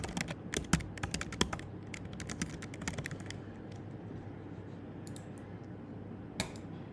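Quick bursts of keystrokes on a computer keyboard as a Salesforce subdomain is entered, a dense clatter for about three seconds, then sparser taps and a final click against a quiet room hum.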